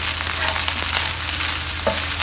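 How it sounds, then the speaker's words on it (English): Spring onion frying with fried rice in a wok, a steady close sizzle with faint stirring scrapes and a brief clatter near the end. "Now we need to cook the spring onion a little because we want to release the flavor."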